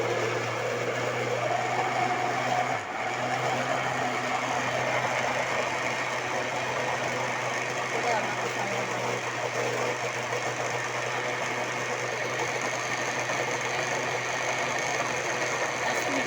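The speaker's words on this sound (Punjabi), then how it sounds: "ਇਹ ਜੱਗ ਨੂੰ ਮੈਂ ਲਾ ਦਿੱਤਾ ਹੈ ਮਸ਼ੀਨ ਦੇ ਉੱਤੇ," An electric mixer grinder churns cream into butter in a jug, giving off a steady, continuous motor hum that barely changes in level from start to finish.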